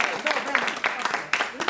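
An audience at a family history talk at a vineyard winery gives a round of applause, a brief scattered clapping of a modest crowd mixed with murmuring voices.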